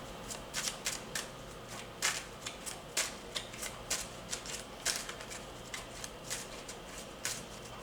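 Tarot cards are shuffled by hand in a quiet room, with a steady run of soft, crisp riffling flicks, each a brief papery snap, heard up close and alone.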